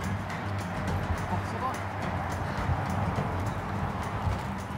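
Donkey hooves clip-clop on a street in Maastricht, a steady moderately loud rhythm mixed with outdoor background noise and people talking nearby.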